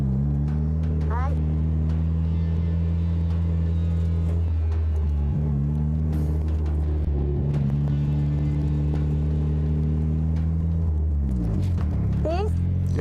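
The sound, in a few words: car drifting, doing donuts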